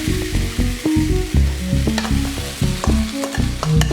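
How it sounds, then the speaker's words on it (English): A spoon scrapes and stirs jerk fried rice out of a pot in quick, close, clattering strokes over a faint sizzle, with no talking. "I'm going to scrape all my rice out."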